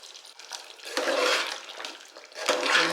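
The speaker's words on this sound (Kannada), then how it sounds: "ನೋಡಿ ಚೆನ್ನಾಗಿ ಕುದ್ದಿದೆ, ಹಾಗೆ ಬೆಂದಿದೆ." Mutton gravy bubbles on a stove after pressure cooking, a wet gurgling churn that swells and ebbs in uneven surges. It is fairly close and there is no talking.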